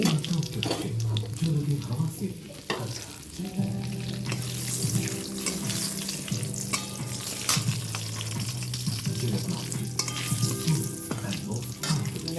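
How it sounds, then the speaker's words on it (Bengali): Dried red chillies, fenugreek seeds and bay leaf frying in hot oil, a continuous crackling sizzle with stirring and kitchen clatter, occasional low voice in the background. "তেলটা দিয়ে দিলাম দেখো শুকনো লঙ্কা দিয়ে দিলাম আর একটু মেথি দিয়ে দিলাম"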